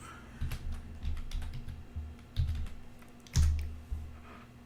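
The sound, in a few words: typing on a computer keyboard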